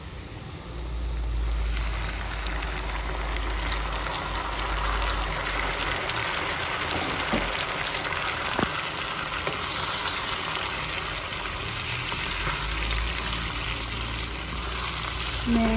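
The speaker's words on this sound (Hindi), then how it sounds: "अब इसमें डालूंगी मैं वो टमाटर जो मैंने आपको सारे दिखाए थे।" Chopped tomatoes go into a pan of golden-brown fried onions for chicken achar. A loud, continuous sizzle and crackle carries on close-up throughout, with a few faint clinks and no talking.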